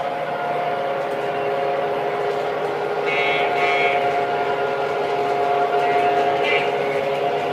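Model trains run steadily on a layout, an MTH steam locomotive hauling diesel units, giving a continuous close rolling rumble and rail hum with faint higher squeals and whistle-like tones rising twice midway.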